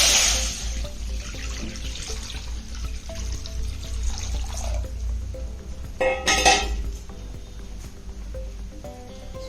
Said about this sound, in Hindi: पई 4 कप पानी दउची।